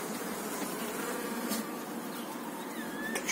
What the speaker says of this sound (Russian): Пчелки шарятся.